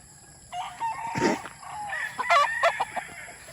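A nine-month-old rooster, an SBR crossed with Milsen's Black, crows close by in a single loud, drawn-out cock-a-doodle-doo with clucking fowl around it.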